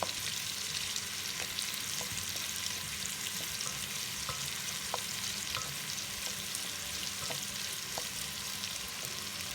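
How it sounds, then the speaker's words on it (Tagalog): Garlic sautés in hot oil for pancit canton, a steady close sizzle running throughout with scattered light clicks of a utensil stirring in the pan. "At gisahin natin yung bawang. Hayaan po natin yung bawang na medyo mag-golden brown ng konti."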